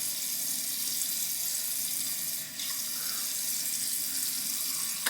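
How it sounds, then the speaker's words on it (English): Warm water runs steadily from a tap at a sink before a shave, a constant close hiss that dips briefly midway, with no talking. "we're just going to get some warm water on the face now"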